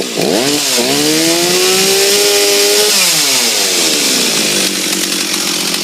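A Stihl 044 chainsaw with a freshly rebuilt piston, warmed up and idling close by: the engine note dips, rises, then settles into a steady loud idle that slowly drifts lower, with no talk over it.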